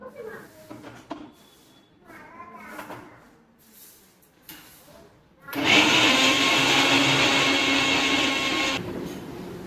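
A mixer grinder whirs loudly as it grinds ginger and garlic into paste, kicking in midway and running steadily for about four seconds after quieter household sounds and voices.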